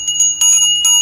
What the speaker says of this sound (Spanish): ¿Qué deben hacer ustedes cuando yo les toque la campana?